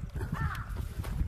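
A crow caws in the open air on a quiet hill in Sagada, Mountain Province, with one or two short, moderately distant calls over faint background noise.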